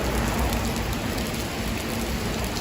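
Heavy rain pours over Manhattan, New York City, on a Friday night during Hurricane Elsa, a dense, steady hiss of downpour spattering on surfaces with a low rumble beneath, continuous and loud throughout.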